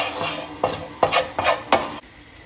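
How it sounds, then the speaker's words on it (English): Garlic frying in oil from sundried tomatoes in a pan, a steady close sizzle broken by four or five stirring scrapes at a loose rhythm, no voices. "There's enough oil in those tomatoes to cook that garlic."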